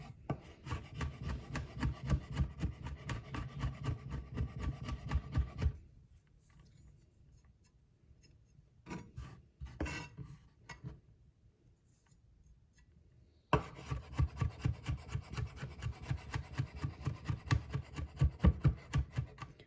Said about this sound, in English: as you continue running your knife through the pile of garlic that you've just chopped